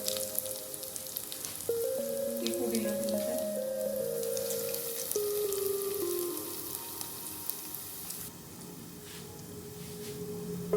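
Poha (flattened rice) frying in a pan over a low flame, giving a steady, soft, faint sizzle with light crackles throughout and no talking.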